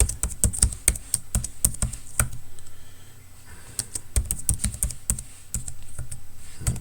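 Fast, steady typing on a computer keyboard while a master password is entered, crisp close-up key clicks in irregular bursts with a brief pause midway, no voices.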